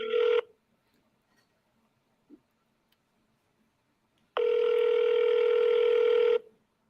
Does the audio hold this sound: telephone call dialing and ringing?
yes